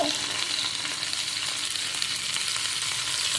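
Spices and fennel seeds crackle and sizzle steadily in a hot pan, a close, even frying hiss with light stirring.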